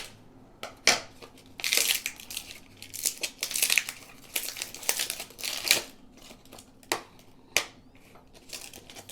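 An old bamboo sheath cover is cut and torn off a woodblock printing baren, producing close, loud crunching and crinkling bursts in irregular spurts separated by short pauses.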